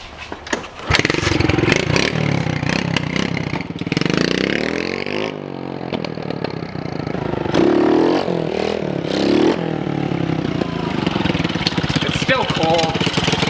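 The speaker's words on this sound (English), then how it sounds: "So I'm gonna rip it up and down the driveway, try to get it to backfire" A pit bike engine revs hard and loud in a driveway, its note rising and falling through repeated throttle blips with no break in the noise.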